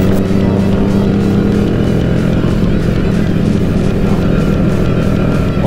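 A Honda Supra 250cc motorcycle is ridden, its engine a loud, steady droning roar with rhythmic pulsing and wind noise close to the rider, with no speech.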